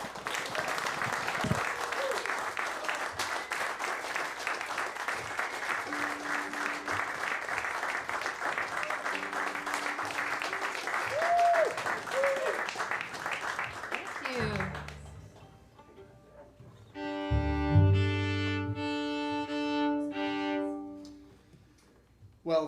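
A live audience applauds a folk music act at a concert, steady clapping and cheering filling the room for about fifteen seconds before dying away, followed by instruments tuning and a few voices.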